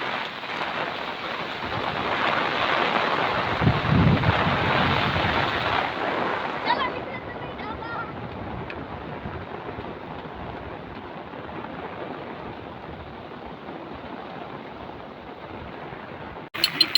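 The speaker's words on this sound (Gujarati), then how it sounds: "ભાવનગરમાં હતી છે ફૂલ ભારે વરસાદ" Heavy rain pours down in Bhavnagar, a dense, continuous hiss that is loudest early on and then settles into a steady roar, with people talking under it.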